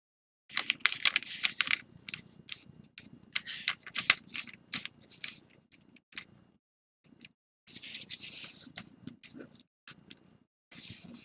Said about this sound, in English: we're going to fold from corner to corner. We're going to just fold them half diagonally